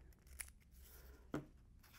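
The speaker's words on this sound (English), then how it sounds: "take my scissors here, cut the Velcro there" Scissors snip through a Velcro strip while fitting a body armor vent kit, giving two quick, crisp cuts close by, the second louder, with no talking.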